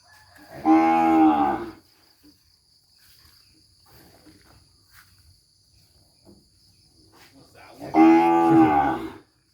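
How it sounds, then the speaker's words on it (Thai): A young cow moos twice on a farm in Buriram, Thailand, each call loud, close and drawn out with a rich, harmonic tone. A quiet stretch with faint insect chirping sits between the two calls. "งัวสาวนะครับพร้อมผสม"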